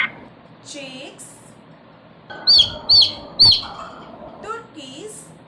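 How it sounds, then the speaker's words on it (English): Three quick high chirps of chicks, evenly spaced in a short burst, moderately loud, set between stretches of a woman's speech on a farm-animals lesson. "chicks,"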